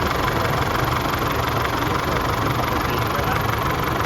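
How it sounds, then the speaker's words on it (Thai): A car engine idles right after its engine warning light has been cleared with an X431 diagnostic scanner, giving a steady, continuous close-up hum with no talking. "เรามาฟังเสียงเครื่อง"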